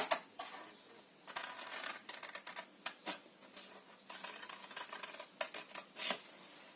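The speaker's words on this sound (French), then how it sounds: "On va couper les languettes. Je coupe et je vous montre." Scissors cut paper tabs for a handmade correspondence box, making a close run of quick, light snips and paper rustles in an uneven rhythm.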